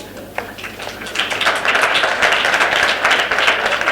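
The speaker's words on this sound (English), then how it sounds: "I think you are giving the round of applause to the learners" Audience applause at the launch of the Phahama Mining School of Specialisation, a dense wash of many hands clapping that swells after the first second and holds steady at a fairly loud level.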